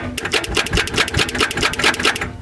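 Starter cranking a 1971 Ford Torino 500 engine off a jump box, a fast, loud, rhythmic whirring churn of about a dozen quick pulses that stops near the end, alone with no talk.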